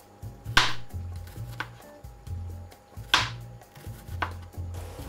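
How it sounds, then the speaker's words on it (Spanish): A knife chops onion finely on a cutting board for a Spanish potato tortilla, giving close, crisp knocks in a regular rhythm of about two quick taps at a time, with a few louder strikes and no voices. "vamos a cortar la cebolla, que lo vamos a cortar igual que la patata"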